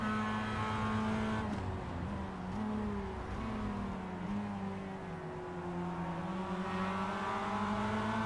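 Several race cars in a racing video game sweep through a corner, their engine notes falling and rising together in a faint, continuous layered drone.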